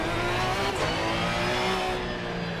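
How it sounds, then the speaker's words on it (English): McLaren GT3 race car in Assetto Corsa Competizione at the Red Bull Ring, its engine a loud, steady high-revving drone with a slight pitch shift partway through, heard close with no talk. "I don't like the sound of McLaren in ACC."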